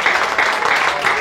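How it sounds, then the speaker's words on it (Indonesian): A church congregation breaks into cheering and applause for God, a steady wash of clapping and crowd noise with no pauses across the brief moment. "Berikan sorak-sorai buat Tuhan."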